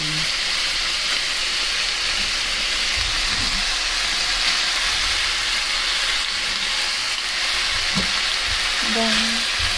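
Long onion fries in a pan with chicken, making a loud, steady sizzle that fills the whole stretch, with occasional clinks and scrapes of a utensil against the pan.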